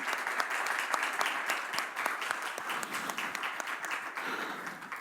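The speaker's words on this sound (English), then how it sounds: "I think that deserves an applause." An audience at a startup and corporate collaboration summit applauds steadily, a dense wash of many hands clapping at even loudness throughout.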